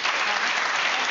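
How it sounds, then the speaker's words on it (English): Studio audience applause at a televised political debate, a dense, steady wash of clapping filling the whole moment at close range. "the audience are all clapping, right?"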